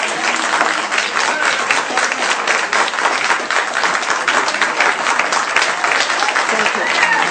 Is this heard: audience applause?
yes